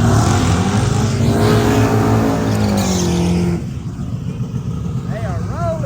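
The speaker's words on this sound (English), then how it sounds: "Finally, race cars going down the racetrack." Race cars at a small tire race roar down the racetrack, a loud, continuous engine drone with rising and falling pitch that eases after a few seconds into a more distant rumble.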